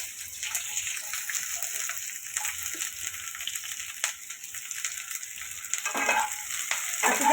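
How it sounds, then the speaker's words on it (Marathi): Onion and tomato fry in oil for a spicy pea and potato curry, giving a steady, moderately close sizzle with occasional scraping stirs that swell louder toward the end. "कांदा टमाटर चांगलं तेलामध्ये भाजून घ्यायचे"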